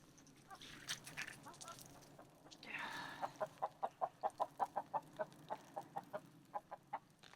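Chickens in a garden chicken coop cluck close by in a rapid run of short repeated notes, coming after some faint rustling and a brief breathy burst.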